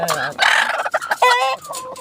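Chickens cluck and squawk in quick, overlapping bursts close by in a coop at night, with one bird letting out a longer, strained call amid the fighting flock.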